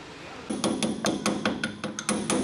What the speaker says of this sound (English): a little bit of tapping and tweaking